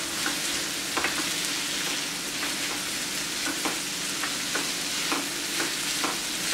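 Onions stirred and lightly fried in a pan give a steady, bright sizzle with regular soft scrapes of a spoon roughly every half second, close and unbroken, with no voices.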